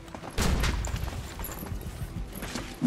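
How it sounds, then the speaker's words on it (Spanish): Shotgun blasts in the tactical video game XCOM: Chimera Squad: a heavy, booming discharge with a rumbling tail, then gunfire-like crackle and a second sharp blast near the end, with no talking. "Dos escopetazos"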